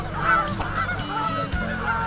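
Geese honking loudly and close by at a family outing spot, several harsh overlapping calls in a steady busy chorus with no break.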